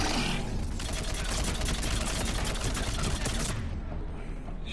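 Dense, continuous gunfire fills a firefight in the video game Mass Effect 3, rapid overlapping shots rattling loudly and steadily before cutting off abruptly near the end.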